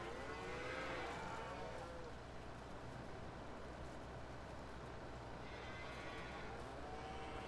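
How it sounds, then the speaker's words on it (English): Cattle low repeatedly in Farming Simulator 19, several drawn-out moos carrying over a constant low background hum, faint and somewhat distant, with someone talking alongside. "Gosh, hear those cows."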